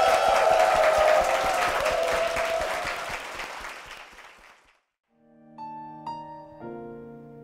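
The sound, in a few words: audience applause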